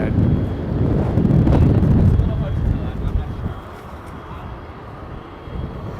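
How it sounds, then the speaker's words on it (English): Strong wind buffets an outdoor microphone on a sunny street in New York City, a loud low rumbling roar that peaks early and then eases into steady gusting. "although it is super windy."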